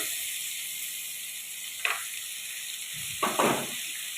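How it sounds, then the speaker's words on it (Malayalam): Steady frying sizzle of onion, green chili, garlic and curry leaves in a pan, broken by a couple of brief stirring scrapes near the middle and end, with no voices. "ഒന്ന് വഴറ്റിയെടുക്കാം"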